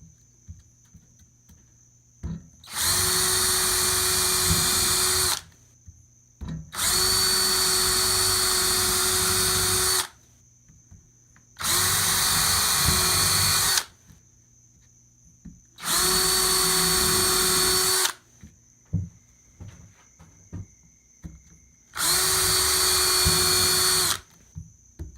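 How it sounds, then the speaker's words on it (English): Five bursts of a power drill whirring steadily for a few seconds each while drilling pilot holes into pallet wood, separated by short pauses with faint clicks and handling noise. "drill 4 pilot holes"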